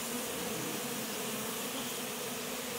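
Honey bees at an open-air colony make a dense, continuous buzzing drone, loud and close, with no voices.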